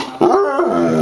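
A bloodhound makes a loud, close, drawn-out growling moan, its pitch rising and bending across about a second.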